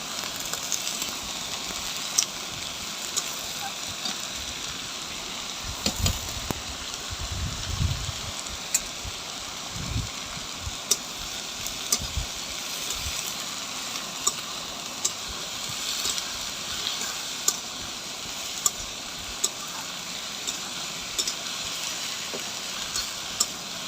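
Onions frying in oil with whole spices (bay leaf, dried chilli, cinnamon, clove, cardamom) for a mutton curry, a steady close sizzle with scattered crackles and occasional stirring clicks.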